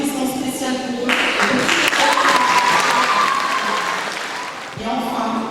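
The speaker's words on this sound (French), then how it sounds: "Ne pouvant pas tous les citer, un applaudissement spécial pour eux." Audience applause at a communion and profession of faith celebration fills the room, a dense steady clapping that swells after the first second and carries on for several seconds before dipping briefly and resuming, with some crowd murmur mixed in.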